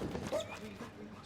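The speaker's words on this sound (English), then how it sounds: "Dog making more noise than the handler." A dog yips and whimpers excitedly during a championship agility run at Crufts, its faint, high noises sitting under a commentator's talk in a large indoor arena.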